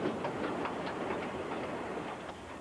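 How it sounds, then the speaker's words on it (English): A modern freight train rolling into Calgary gives off a steady low rumble and roar with faint rhythmic clicks of wheels over rail joints, continuous and moderately distant. "The modern-day train rolling into Calgary receives very different treatment from the old locomotives"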